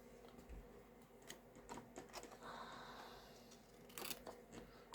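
Scissors snip the edge of paper during papercraft work, giving a few faint, sharp cuts scattered between quiet handling rustles, close by and soft overall.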